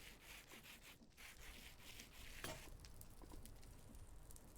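Sandpaper polishing rose quartz in Minecraft gives a soft, quick rubbing scrape repeated in short strokes, faint and dry, with a sharper scratch partway through and no voices.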